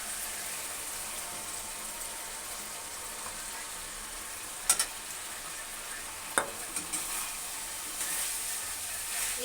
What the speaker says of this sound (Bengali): ফ্রাই করা মশলার মধ্যে আমি দিয়ে দেবো চিকেন ফ্রাই করার